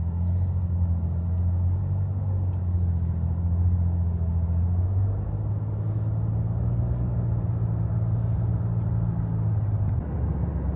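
A car drives along a road, heard from inside as a steady low engine and tire rumble that stays even and continuous throughout with no talk.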